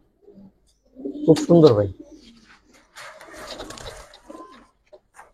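Giribaz pigeons coo in a loft: someone briefly speaks, then soft, rolling coos and scattered rustles follow at moderate distance.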